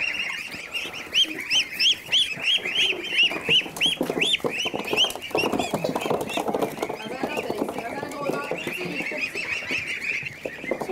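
Chickens cluck and squawk in a cage alongside turkeys and guinea fowl on a farm, a dense, loud flock with rapid repeated calls throughout, with people talking now and then.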